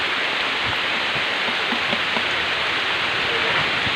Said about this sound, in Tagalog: Lakas po ng ulan dito.